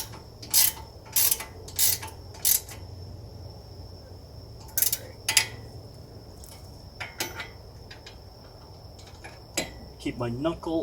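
A ratcheting wrench tightens a brake caliper bolt on a Hyundai Genesis Coupe during a Brembo rotor and pad swap, giving short bursts of sharp clicking separated by pauses, close up over a faint steady hum.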